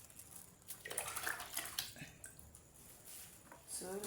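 Water pours and splashes into a liquid soap mixture being mixed by hand, a soft, uneven trickle with gurgles and drips, faint and fairly close.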